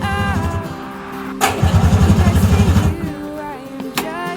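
A 1970s Subaru R-2 with a 360cc two-stroke engine, its starter cranking: a sharp knock is followed by about a second and a half of quick, rhythmic churning pulses, then quieter knocks, fairly close with no clear voices.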